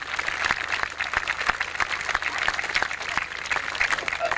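A community audience at the Starbeck in Bloom 20th anniversary event gives a round of applause, lively clapping from many hands, close and continuous, with a quiet music bed beneath.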